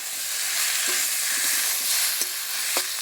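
Spices, salt, turmeric, green chilli and vegetables fry in a pan under a strong steady sizzle and hiss, with a few sharp scraping stirs and utensil knocks, close-up and without talking.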